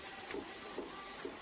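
An Epson L18050-series printer feeding roll paper, a quiet steady mechanical whir with a few soft periodic clicks, heard alone.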